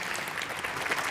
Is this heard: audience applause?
yes